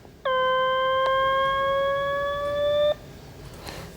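A single sustained high-pitched electronic tone with harmonics from a sonified graph of a log base 100 function, holding steady for nearly three seconds before cutting off abruptly.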